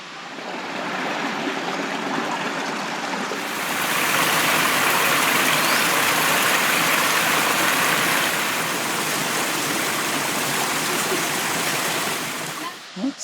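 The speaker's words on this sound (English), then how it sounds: "sounds like we've got another fall down here" Steady broadband rush of a creek and waterfall at Somersby Falls in Bouddi National Park, loud and continuous, swelling stronger after a few seconds as the falls come closer, then cutting off at the end.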